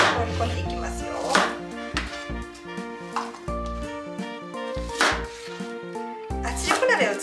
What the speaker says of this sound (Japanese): 大きくザクザク切って圧力鍋の中にどんどん放り込んでいきますよ。